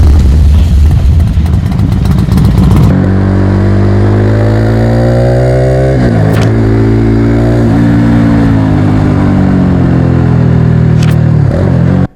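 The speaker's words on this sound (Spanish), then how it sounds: "cómo sacar el mejor sonido del motor de nuestra moto" Motorcycle engine revving loudly up close, a rough idle giving way to a long climbing rev that rises, dips and surges again, with sharp blips near the end and no talking.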